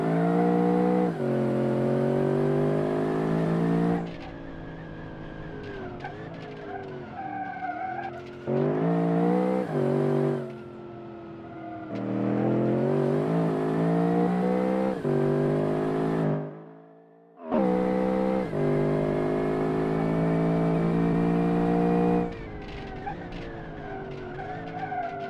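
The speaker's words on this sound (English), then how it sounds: "Listen to the gearbox." A car's engine and gearbox whine through rising and falling revs as gears shift, a loud, tonal drone broken by short pauses, with tyre squeal and skidding in places.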